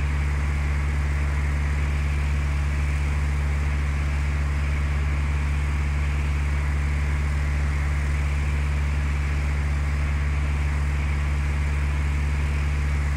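Simulated fixed-wing aircraft engine on ILS landing approach in Flight Simulator 2004, a steady low droning hum with constant propeller tone, unchanging and continuous throughout, no talking.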